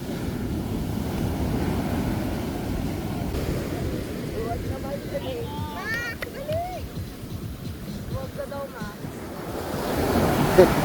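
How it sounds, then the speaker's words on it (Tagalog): Rough waves break and wash onto a beach in Cabangan, Zambales, a continuous roaring surf with wind buffeting the microphone, while people talk nearby over it. "Pagalit yung alon eh. Umaabot na dito eh."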